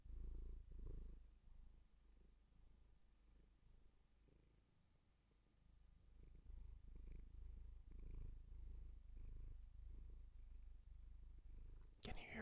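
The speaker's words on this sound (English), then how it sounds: "Can you hear him purring?" Soft, steady purring rolls on in slow rhythmic pulses, close and low, with a brief rustle at the very end.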